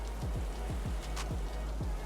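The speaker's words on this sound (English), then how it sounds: "It is still raining." Steady rain falls in a video game, a continuous soft patter with a string of light, irregular low thumps underneath.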